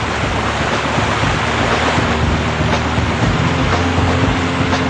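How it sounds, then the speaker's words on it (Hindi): Floodwater of the Kosi river in Bihar roaring steadily, a loud, continuous broadband rush of churning water with wind buffeting the microphone, no voices. "गर्जना करती कोसी नदी लाखों लोगों को डरा रही है।"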